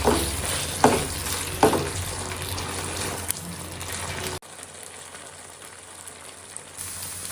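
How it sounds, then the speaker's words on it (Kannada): Chicken sizzles and fries steadily in a pan of butter and garlic, with a few stirring scrapes early on and a close, continuous crackle that drops slightly in level partway through, no voices. "ಚಿಕನ್ ಚೆನ್ನಾಗಿ ಬೇಯೋವರೆಗೂ ಚೆನ್ನಾಗಿ ಫ್ರೈ ಮಾಡ್ಕೊಳ್ಳಿ"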